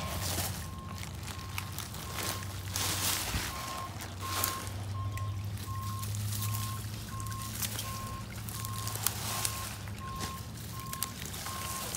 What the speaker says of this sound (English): That's just somebody reversing their construction equipment. AKA just a forklift.